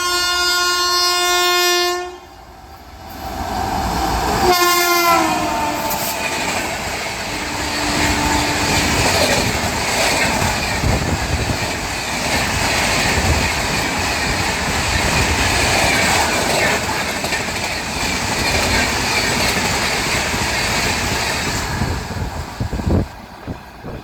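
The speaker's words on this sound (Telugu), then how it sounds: "వస్తున్నాడండి విశాఖపట్నం సికింద్రాబాద్ వందే భారత్ ఎక్స్ప్రెస్." Visakhapatnam–Secunderabad Vande Bharat Express passing through a station, opening with a loud horn blast and then a sustained, close roar of rushing coaches with rolling rail rumble lasting about twenty seconds.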